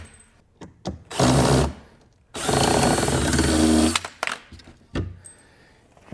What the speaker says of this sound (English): we shall do the other 4 screws on the bottom. These I will allow to drop.